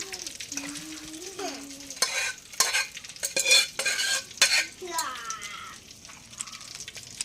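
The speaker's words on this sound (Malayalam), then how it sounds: "വേവിച്ച് വെച്ചിരിക്കുന്ന ചേമ്പ് മുട്ട പയറ് വേറെ തോന്നുന്നു പിന്നെ ചക്കക്കുരു ഇതെല്ലാം കൂടെ ഈ ചട്ടിയിലോട്ട് ഇടുകയാണ്" Boiled taro, beans and jackfruit seeds are tipped and stirred into a clay pot, with a run of wet clattering scrapes and thuds in the middle, a voice murmuring briefly at the start.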